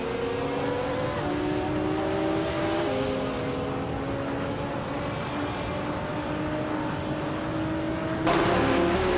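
Race car engines in a racing video game drone steadily with rising and shifting pitch as cars run close together, a constant loud roar with a sudden jump in intensity near the end.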